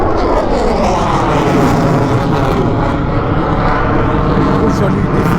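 A single airplane flies overhead outdoors, a loud, steady broadband roar that fills the whole stretch without letup, with no clear voices over it.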